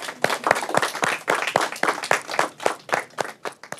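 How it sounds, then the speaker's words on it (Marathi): A studio audience at a Konkani-language quiz semi-final claps together, a loud, even patter of many hands with sharp individual claps standing out, continuing steadily throughout. "टाळी ऑडियन्सा खातीर"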